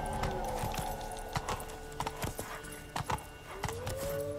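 Horse hooves clip-clop at a steady trot in The Witcher 3, the clopping continuous and fairly close under ambient game sound, with a couple of brief louder thumps and a rising whine near the end.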